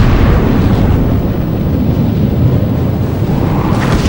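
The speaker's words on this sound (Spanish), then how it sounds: "Todo ocurre en el más completo silencio, hasta que finalmente explota." An asteroid impact explosion sound effect rumbles as a loud, sustained low roar for about four seconds. It ends with a brighter burst near the close.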